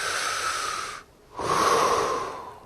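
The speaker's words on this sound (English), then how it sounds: "if you breathe in and out, you're using your lungs" A person breathes in and out close to the microphone, one long airy breath, a short pause, then a second, slightly louder breath, with no talking.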